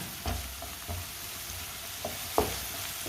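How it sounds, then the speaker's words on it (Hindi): Spices cooking in a pan over low heat for Punjabi-style mooli (radish) curry, with a low steady frying hiss and a few soft stirring scrapes and clinks, no talking. "मसालों को 1 मिनट के लिए पका लेंगे।"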